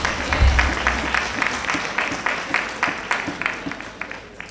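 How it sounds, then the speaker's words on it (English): Audience applause in a pharmacist liability-insurance lecture hall, a burst of scattered hand claps over several seconds, moderately loud at first and thinning out, with low murmurs in the room. "Clap her, man, she bright."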